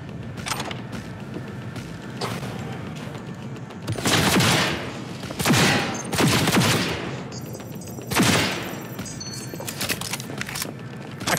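Gunfire in the video game Cyberpunk 2077, loud bursts of automatic fire in several spaced volleys over a steady background of mechanical ambience.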